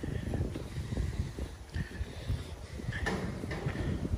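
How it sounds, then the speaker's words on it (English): Wind buffets the microphone at an outdoor antique show, rumbling in low gusts with uneven surges and a few brief knocks, close and fairly loud with no talk. "I hope you can hear that because of the wind."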